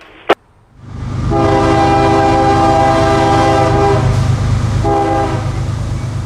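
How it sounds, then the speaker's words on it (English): Mixed freight train M457, a daily run from Baldwin, Florida, to Orlando's Taft Yard, rolls down a hill, its horn sounding in a long loud blast over the steady rumble of the cars after a brief knock, with a short second horn note near the end. "down the hill came M457, daily mixed freight out of Baldwin, Florida, to Orlando's Taft Yard"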